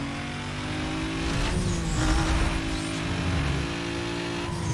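A race car engine in the video game Need for Speed Most Wanted drones loudly and steadily, revving up and easing back, with a faint tire hiss, alone without talk.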